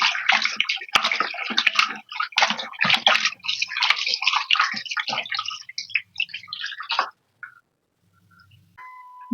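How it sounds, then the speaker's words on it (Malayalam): Water left from washing meat and fish is poured into a vessel, a splashing gush running steadily for about seven seconds before cutting off to near quiet. "ഇറച്ചി കഴുകിയ വെള്ളം, മീൻ കഴുകിയ വെള്ളമൊക്കെ ഇങ്ങനെ ഒരു പാത്രത്തിൽ ഒഴിച്ച് വെച്ചിട്ട്"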